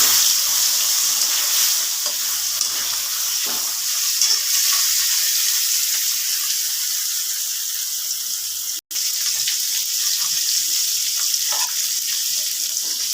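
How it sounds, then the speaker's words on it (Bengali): Pieces of katla fish fry in hot oil with turmeric in a pan, giving a loud, continuous hissing sizzle that stays even throughout, with a brief break partway through. "এবার আমি মাছগুলো ভেজে নেব।"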